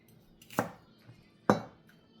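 Two sharp knife chops through bok choy on a cutting board while slicing ingredients for pancit canton, spaced about a second apart, close and clear with quiet pauses between.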